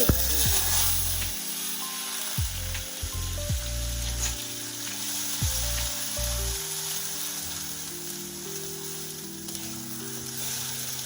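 Onion and garlic paste frying in a pan for a cauliflower and prawn curry, a steady loud sizzle throughout with scraping and clinking of a stirring utensil against the pan.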